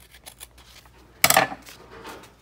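Scissors snip once through paper for a mixed media collage, a single short crisp cut standing out briefly against a quiet room.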